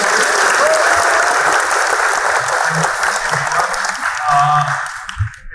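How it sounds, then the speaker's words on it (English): Audience applause at a Cloud Community Days 2022 tech talk, a loud, sustained wash of clapping from a crowd that carries on for several seconds with murmuring voices mixed in, then fades at the end. "can we have a louder round of applause?"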